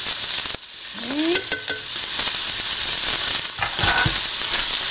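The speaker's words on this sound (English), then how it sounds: "we're gonna lower the heat as to not burn the garlic and the onion" Garlic and onion fry in a pan with a steady, loud sizzle, broken by a few brief stirring scrapes and clinks of the utensil against the pan.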